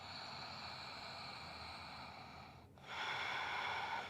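Deep yoga breathing during a flowing practice: a long steady exhale, a brief pause, then a louder rushing inhale, close and alone.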